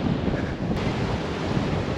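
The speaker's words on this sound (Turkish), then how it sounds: "Denizden feci bir rüzgar esiyor." Strong sea wind gusting on the Caribbean coast at Cartagena: a steady, loud roar of buffeting, broadband rushing noise with surf mixed in. No voices are heard.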